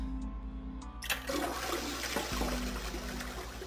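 Toilet flush in the video game Zero Escape 999: a loud rushing gush of water kicks in after a quiet moment and keeps churning and swirling, alone with no talk.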